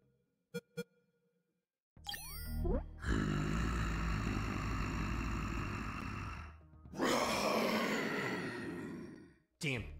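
A T-Rex roars in the video game UNMETAL: two short clicks, then a long, loud, harmonically rich bellow lasting about four seconds, a brief pause, and a second rough roar that trails off.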